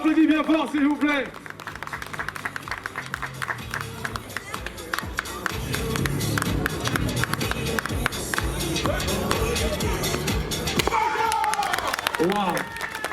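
Festival audience at an African festival in Liège applauding a tiger leap acrobatic act, dense sustained clapping and crowd noise filling the space after a loud announcer's voice, with cheers rising near the end.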